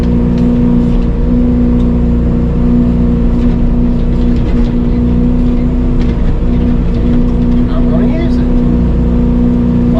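Excavator engine running steadily while moving extra dirt during grading work, a loud, constant droning hum with faint clanks, close by throughout.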